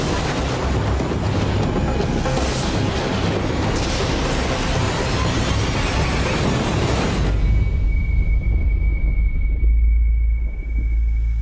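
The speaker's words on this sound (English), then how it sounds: "And suddenly there's a huge explosion." A huge explosion during a violent storm at sea: a sustained, loud roaring rumble that fills the first seven seconds, then gives way to a deep low boom and steady rumble with a faint tone above, no voices.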